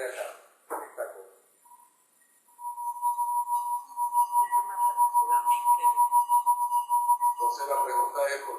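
A finger rubs the rim of a glass until it sings, producing a steady, pure ringing tone that swells and pulses for several seconds after brief handling noises, with a rustle at the end.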